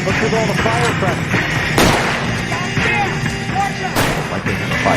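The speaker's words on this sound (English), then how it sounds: "What's with all the firecrackers?" Firecrackers going off in the video game L.A. Noire, a string of sharp pops and bangs with two louder blasts, mixed with game sounds and voices talking over the top.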